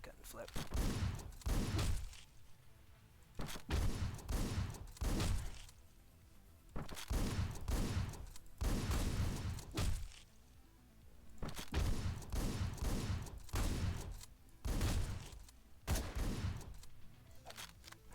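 Shotgun blasts in a video game, loud separate bursts repeating roughly every two to three seconds with quieter gaps between them.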